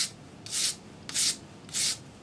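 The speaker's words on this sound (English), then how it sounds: "Sand your solder join now." Sandpaper rubbing a solder join on a metal bezel for a faceted stone, heard as three separate bright scratchy strokes of about half a second each, evenly spaced, close up and alone.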